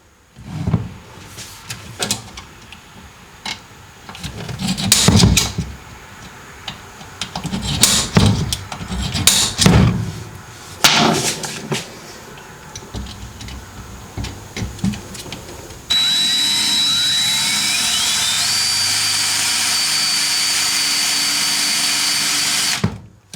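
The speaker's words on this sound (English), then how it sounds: "now that you got your pilot hole drilled in the security bolt" Handheld power drill running in bursts, stopping and restarting, then a long steady high-pitched whine as it bores a pilot hole through a metal security bolt on a 3000GT VR4, close and loud.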